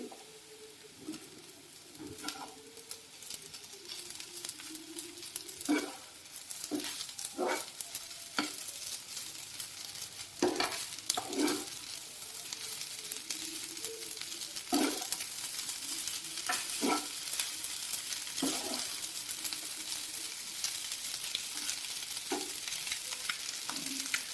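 Egg fried rice being stirred in a pan over a high flame after sauces and vinegar go in, a steady sizzle broken by repeated spatula scrapes and knocks against the pan, close and continuous.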